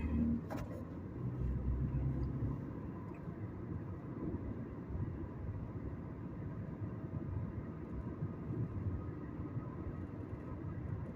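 A manual-transmission car drives slowly through town, with a steady low engine and road rumble heard from inside the cabin and a brief faint click near the start.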